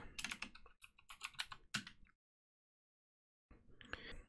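Bursts of keystrokes on a computer keyboard as a terminal command to install software is typed on a Debian 10 system, quick irregular clicks for about two seconds, a pause of silence, then a few more taps, close and clear.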